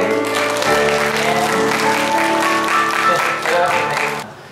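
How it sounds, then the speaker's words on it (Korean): A congregation applauds during a Sunday church service: loud, sustained clapping from a full room, layered over a steady musical drone, before it drops away near the end. "네, 영예의 박수 크게."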